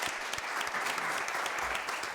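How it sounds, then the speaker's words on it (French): A French TV studio audience claps steadily for a couple of seconds, a dense, even patter of applause with no talk over it. "On va applaudir pour Stéphane."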